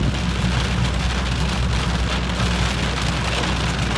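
Heavy rain pours onto the closed soft top of a convertible car in Germany, a loud, unbroken hiss and patter of drops heard from inside the cabin.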